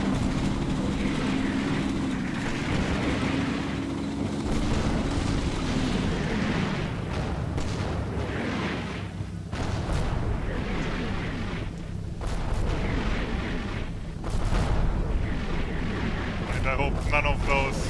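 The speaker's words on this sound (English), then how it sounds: "here comes the mortar strike" Mortar rounds land in the World War II game Combat Mission Fire and Rubble, in Pomerania 1945. Dull explosions rumble one after another in a continuous low roar, and someone talks over them.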